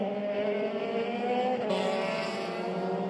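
Euroformula race car on the Nürburgring circuit, the high-revving engine screaming steadily at close range with a sharp pitch shift midway as it passes or changes gear.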